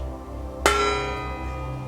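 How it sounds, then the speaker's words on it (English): A single bell strike used as part of a full moon ritual rings out clearly once, with a bright metallic attack and a long sustained ringing tone that decays slowly over a steady low hum. "want to do is to ring the bell."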